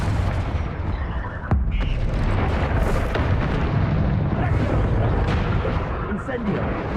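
Explosive spell blasts from Hogwarts Legacy on hard mode fire in a dense, continuous barrage, loud booms and bursts piling over one another for several seconds with no gaps, while a voice shouts spell names over the din.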